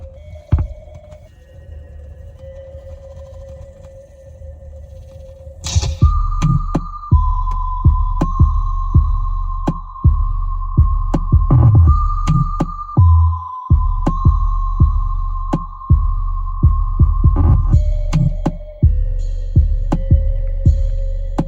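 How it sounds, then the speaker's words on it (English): Deep, booming bass pulses thump steadily under a sustained synth melody, a loud bass-heavy song playing on an Audi A5 B8 upgraded car sound system in the enclosed cabin, with no talking. "it's really not a good song, but it has very good bass"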